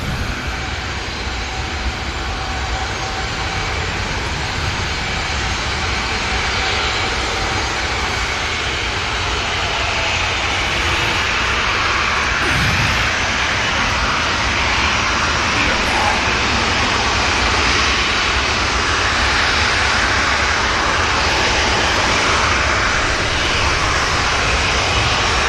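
A Loganair aircraft departs Manchester Airport, its engine noise a loud, sustained broadband roar that stays steady and close throughout, with no voices over it.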